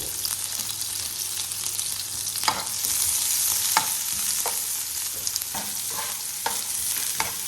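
Garlic and onion sauté in a pan with a steady, close sizzle, punctuated by regular scraping stirs of a spoon against the metal, with no voices.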